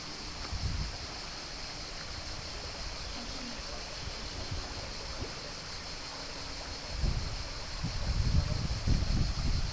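Clear, freezing-cold mountain stream water flowing steadily in an Italian town, a continuous broadband rush with a bright hiss, heard close and alone, swelling slightly louder near the end.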